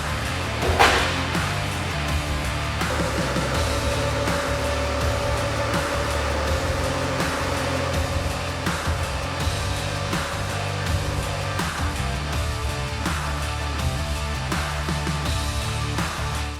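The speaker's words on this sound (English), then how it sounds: "Now we're going to run this Mazda up with the DPF filter in place" Mazda BT50 diesel ute with its DPF filter fitted, held under load on a dyno, giving a loud, steady drone that rises in pitch through the run and carries no voices.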